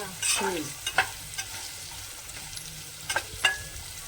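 Drumstick pods (nugge kayi) frying in a pan, with a low steady sizzle broken by a few sharp scraping stirs of a spatula, close and fairly quiet, no talking.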